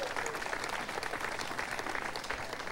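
Audience applause and cheering at a Pinellas Trail 20th anniversary event, a steady wash of clapping from a sizable crowd lasting the whole stretch.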